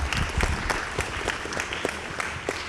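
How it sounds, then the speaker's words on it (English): A round of applause for volunteers at a hackathon opening ceremony, dense crowd clapping with sharp individual claps standing out, close and steady for the whole stretch. "Let's get one big round of applause for them."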